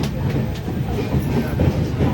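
A crowded Ratnagiri–Diva passenger train rumbling along at close range, a low continuous roar with faint rhythmic clatter, some muffled talk mixed into the noise.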